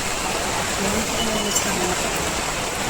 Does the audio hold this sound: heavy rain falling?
yes